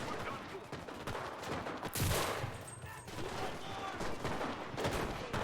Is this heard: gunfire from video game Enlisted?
yes